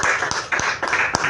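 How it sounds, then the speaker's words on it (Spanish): Church congregation clapping during a Spanish-language sermon, a quick burst of rhythmic hand claps with sharp individual hits, close and moderately loud. "Denle un aplauso al Señor."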